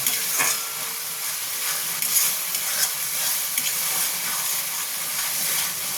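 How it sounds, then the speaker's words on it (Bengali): Spice paste sizzles and hisses steadily as it is sautéed in a pan while cooking pabda fish with poppy-seed paste, with soft stirring scrapes throughout and no talking. "আমার মশলাটা প্রায় হয়ে এসছে কষা।"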